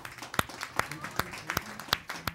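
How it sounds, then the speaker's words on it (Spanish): An audience at a singer-songwriter concert claps in sharp, separate strikes spaced about evenly apart, a sparse and fairly quiet rhythmic ovation rather than a dense roar. "Ovación conmovedora"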